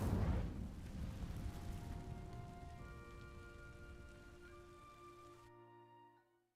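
An Incendio fire spell cast in Hogwarts Legacy, a loud burst of crackling, whooshing fire that rumbles and gradually fades into ringing tonal hums before cutting off.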